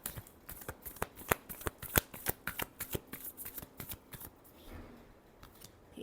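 Tarot cards being shuffled by hand in a quiet room, a run of crisp riffling slaps and flicks in an uneven rhythm, close and clear, trailing off into soft handling with no talk.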